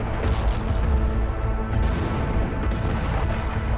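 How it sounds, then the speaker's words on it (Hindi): Dense, rumbling explosions from Israeli bombing of the Nusrat refugee camp in Gaza. Heavy booms and crackling blasts roll together in a continuous, chaotic barrage with no talk. "नुसरत कैंप पर भी इजरायल ने बमबारी की, जिसके बाद जबरदस्त धमाके देखे गए।"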